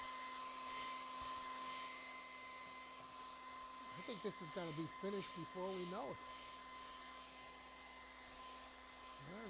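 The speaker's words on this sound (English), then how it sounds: "We're going to go to the handy dandy dryer." A hair dryer drying a watercolor painting whirs with a steady, loud tonal whine throughout, while a person talks over it briefly in the middle.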